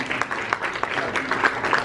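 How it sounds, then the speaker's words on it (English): Audience applause after a Web Summit stage talk: steady dense clapping from a large crowd, loud and continuous throughout. "can we get a big round of applause for Julius?"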